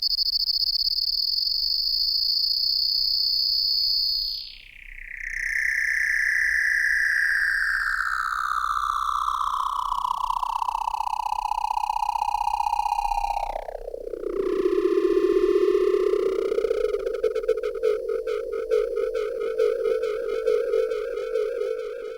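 An MPC Air FX delay set to high feedback with a short time makes a tone repeat and stack on itself, a continuous pitched whine sliding downward in steps while growing louder and grittier, with no voices.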